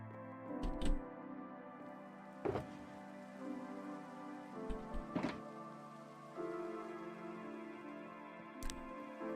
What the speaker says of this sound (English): it's nighttime and it's raining out here